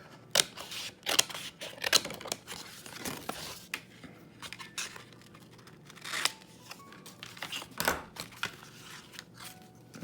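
Scissors snipping through a paper portfolio folder, a quick series of close crisp cuts and paper rustles, irregular and fairly quiet, with no talking.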